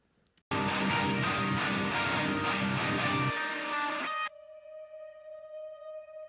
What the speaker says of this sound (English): I've got a pad. I'll play that real quick just so you can hear it.